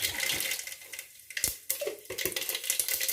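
Mustard seeds drop into hot oil in a home kitchen pan and sputter in quick, crackling bursts, close and moderately quiet, with no voices over it.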